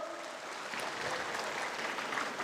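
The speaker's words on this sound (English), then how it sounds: "Give yourself a clap" Audience clapping at a corporate leadership talk in Kota Kinabalu, a soft, steady patter of hands held at a fairly even level for a couple of seconds, somewhat distant and faint.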